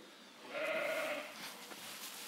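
A single sheep bleats once, a short wavering cry at moderate distance over quiet farm background, with no one speaking.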